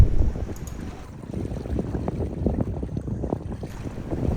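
Sailboat moving through strong wind on Lake Zurich, a steady low rush of wind buffeting the microphone with water sloshing against the hull, continuous and fairly close with no talking.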